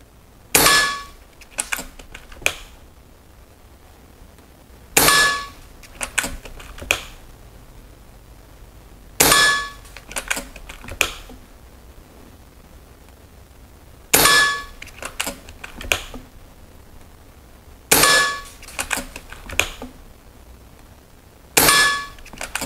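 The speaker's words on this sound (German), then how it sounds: "Einmal noch konzentrieren und präzise schießen." Air rifle firing diabolo pellets into ballistic gelatin, five or six sharp loud cracks at roughly four-second intervals, each followed by a few quick metallic clicks and clanks of the mechanism; no talking.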